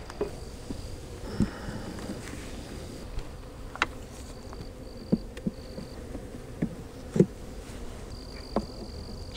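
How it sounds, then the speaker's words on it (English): Honey bees buzz steadily inside a collapsed, starving hive, a close, continuous drone with scattered louder wingbeat passes and small clicks and taps over it. "Still a lot of bees in there"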